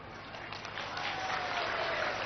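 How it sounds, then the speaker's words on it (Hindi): An audience claps at a public gathering with the chief minister at a world peace prayer ceremony, a dense wash of applause that swells slightly and holds steady, heard from a distance. "जोर से ताली बजा"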